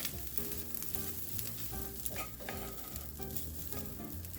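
A seasoned stuffed-pepper filling with garlic powder, paprika and black pepper is stirred in a frying pan. It sizzles quietly and steadily, with soft scraping strokes of the spoon running throughout.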